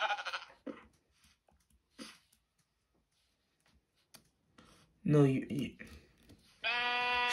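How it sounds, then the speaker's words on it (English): Sheep bleat in a Minecraft-style video game, a couple of wavering, nasal calls near the end amid sparse clicks and quiet stretches, with someone talking briefly over them. "Sheep, come on."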